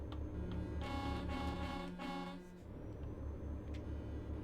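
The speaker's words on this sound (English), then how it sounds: "That's the button I was looking for. The HH. Honk honk." A truck horn honking in the video game Euro Truck Simulator 2, a sustained blaring tone lasting a couple of seconds over the steady low rumble of the engine and road, with no talking.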